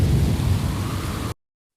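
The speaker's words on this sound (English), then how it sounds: "When a storm reaches land, it brings heavy rain and strong winds." A thunderstorm with heavy rain and strong winds makes a dense, loud rushing roar with low rumbling. It is steady and alone, then cuts off abruptly.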